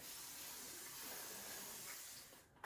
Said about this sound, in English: I'm gonna go ahead and spray water on this other section here that's for the back